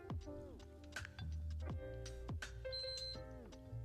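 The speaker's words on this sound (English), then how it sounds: "There it is. The 3 golden beeps." A PS5 console sounds its startup beeps, with a cluster of bright electronic tones that ring out and fall away in quick succession, fairly close and clear.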